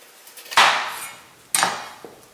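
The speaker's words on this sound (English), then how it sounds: "But for now, I'm just going to cut the ends off." A knife chops the ends off a summer squash on a board, two sharp close cuts about a second apart, the second followed by a faint tap.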